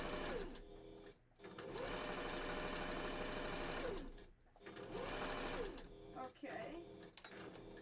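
Sewing machine stitching a fursuit bandanna runs in loud steady bursts, stopping briefly twice as the fabric is turned at a corner; a voice speaks briefly in one pause.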